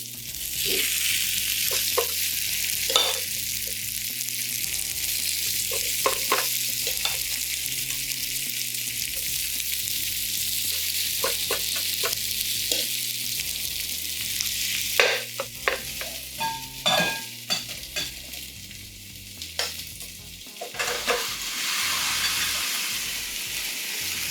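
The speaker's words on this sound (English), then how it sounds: "Let's hear the sizzle." Steady frying sizzle of potato waffle batter cooking in a hot waffle iron, with occasional clicks and taps, continuous and close.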